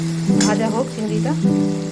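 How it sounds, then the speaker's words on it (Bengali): Shrimp coated with salt and turmeric frying in a pan: a steady, close sizzle with someone speaking over it throughout. "এটার মধ্যে আমি নুন হলুদ মাখানো চিংড়িটা এখন ভেজে নেব"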